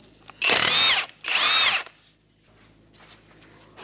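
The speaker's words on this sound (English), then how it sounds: "With a 21mm socket, we're going to remove our lug nuts and our wheel." Power tool spinning off wheel lug nuts with a 21mm socket on a 2013 Hyundai Elantra: two loud, close whirring bursts of about half a second each, then quiet shop background.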